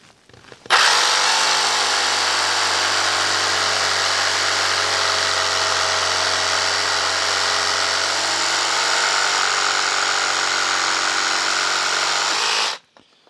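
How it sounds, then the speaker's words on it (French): A Ryobi RJS18X cordless jigsaw running at maximum speed with a fresh blade cuts through 70 mm thick wood, a steady loud buzzing whine held for about twelve seconds before stopping abruptly. "Voyons maintenant ce que ça donne avec une pièce de bois un peu plus épaisse, puisqu'on est sur du 70 mm d'épaisseur"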